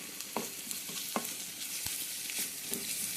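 Onions with turmeric and ginger garlic paste are stirred in a hot pan for a spring onion egg curry, giving a constant close sizzle with soft scraping strokes of the spoon at a steady pace.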